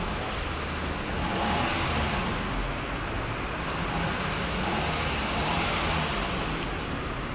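A Toyota Vios with a leak is heard on a test drive, its engine producing a steady, moderately quiet hum blended with road noise that holds even throughout, with no talking.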